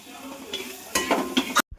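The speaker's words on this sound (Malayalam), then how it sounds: "അപ്പോൾ നമ്മളങ്ങനെ ചതച്ച മുളക് കൂടി ഇട്ട് കൊടുക്കുവാണ്." Crushed chili fries in a pan for a chicken dish, a steady sizzle with a spoon scraping and stirring through it in several loud strokes, cutting off abruptly near the end.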